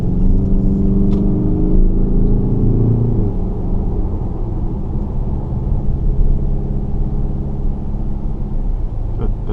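A 2018 Mazda CX-5 diesel engine pulls up a hill, a steady low rumble from inside the cabin with a mild rise in engine drone at first, then a constant road hum.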